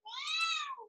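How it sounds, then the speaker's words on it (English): A pet cat lets out one loud, drawn-out, yowling meow, close and clear against silence, rising and then falling away at the end. "I'm sorry if you hear my cat yelling in the background, Indy, shh."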